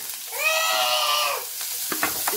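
Onions and tomatoes hit a hot pan with a sudden loud sizzle that holds briefly, then settles into a quieter frying crackle with a few sharp clinks near the end.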